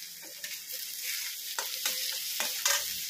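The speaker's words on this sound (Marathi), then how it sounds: "हे असे मिक्स करून घेणार आहोत" A spoon stirs and mixes bhaji in a hot pan, scraping strokes landing every half second or so over a steady frying sizzle, close and moderately loud with no talking.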